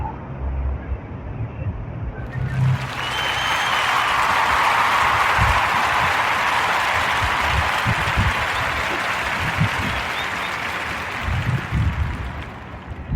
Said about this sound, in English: join me in giving a warm narrative podcast round of applause for the brother Ibram X.